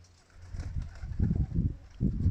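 Low, murmuring coos of a homing pigeon repeat in soft bursts, close by, with faint rustling and background noise between calls.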